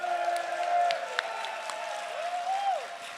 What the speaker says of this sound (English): Crowd, give it up for Pakolem.